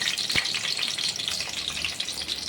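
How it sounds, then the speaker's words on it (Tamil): Chopped ginger sautés in a pan for onion chutney, giving a steady, close frying sizzle with a brief stir at the start and no talk. "இந்த மாதிரி இஞ்சி நல்லா வதக்கிக்கிறோம்"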